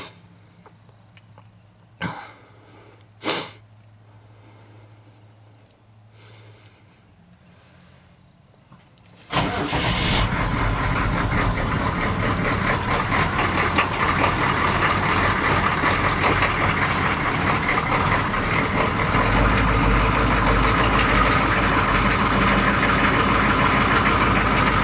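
Chevrolet Blazer engine cold cranking on a chilly morning, a brief starter churn before it catches and settles into a loud, steady rough idle that runs continuously, following a few faint clicks and bumps.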